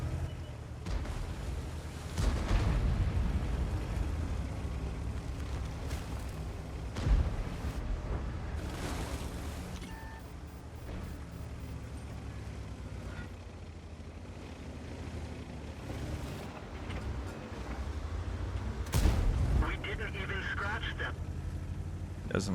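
TS-60 tank cannon shots in a video game, with several heavy booming blasts spread across the stretch over a low rumbling engine bed, and someone talking over much of it.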